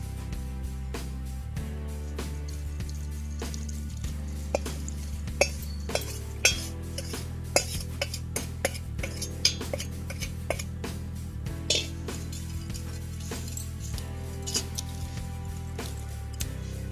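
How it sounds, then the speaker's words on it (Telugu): Mango avakaya pickle is stirred with cooled tempering oil in a metal vessel, giving a steady run of sharp spoon-on-dish clinks and scrapes over a soft tonal background. "ఇప్పుడు మనం ఈ మిశ్రమంలో పోసి కలుపుకుందామండి"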